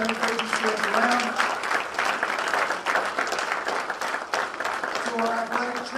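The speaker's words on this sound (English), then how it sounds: "Please give them a round of applause." Audience applause at a high school athletic awards ceremony, a steady wash of clapping that runs through the whole stretch, with voices and scattered cheers mixed in underneath.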